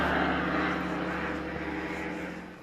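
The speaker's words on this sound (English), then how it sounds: "there's one guy out in a plane though" A small plane drones overhead above quiet back lanes in rural Baden-Württemberg, a steady broadband engine roar that is loud at first and slowly fades as it moves away.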